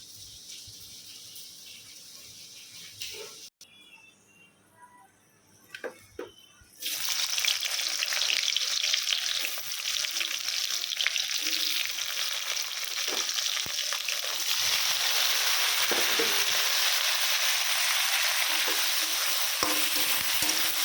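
Chicken pieces frying crisp in hot oil in a pan, a loud steady sizzle that swells after a quieter start with a few clinks and stirring, then stays dense and continuous.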